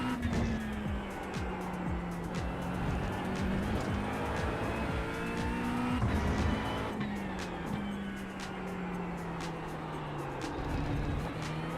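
GT3 race car lapping Fuji circuit in a racing video game, its engine droning steadily and shifting pitch through gears, with tire squeal through corners; loud, continuous and close throughout.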